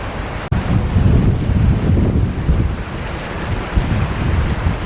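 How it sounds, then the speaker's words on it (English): Strong winter wind at an urban creek campsite, loud and continuous as it buffets the microphone in a dense roaring rush, with one abrupt thump near the start and no speech. "Get out of the wind."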